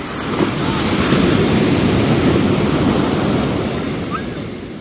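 Sea waves break and surge onto the shore at Shangumugham beach in Thiruvananthapuram, a loud continuous wash of surf with heavy wind buffeting the microphone and no one speaking.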